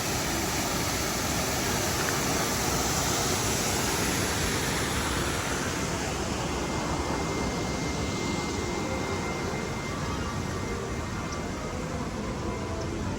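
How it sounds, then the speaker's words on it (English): A waterfall at Universal theme park gives a loud, steady broadband rush of falling water that fills the whole stretch without a break, with no voices over it. "It might be a little noisy, but yeah, you've got the waterfall here."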